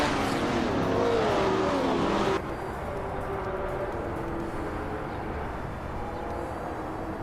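Race car engines whine in a racing video game, a loud pass with a rising and falling pitch for the first couple of seconds, then a steadier, softer engine drone continues.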